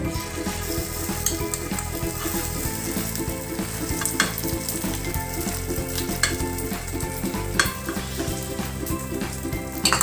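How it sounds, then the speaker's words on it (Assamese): Eggs frying in hot oil in a pan, a steady loud sizzle throughout with occasional clinks and stirring scrapes, no talk. "চ' টাৱাখন গৰম হোৱাৰ পিছত আপোনালোকে এই কণীখিনি ঢালি দিব"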